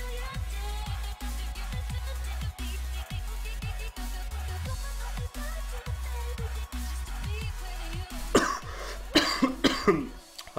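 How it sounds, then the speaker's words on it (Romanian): Someone coughs about a dozen times at a steady rhythm, loud and close to the microphone, while Farming Simulator 2015 game sounds run underneath. A burst of talk follows near the end. "A trebuit să tușesc puțin."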